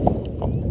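A horse being ridden around an arena, quick learner under saddle; two distinct hoof clops land close by, roughly a third of a second apart, over a steady low background rumble.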